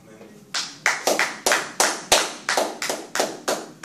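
A church congregation clapping in unison, about ten loud, sharp, evenly spaced claps close by in a steady rhythm.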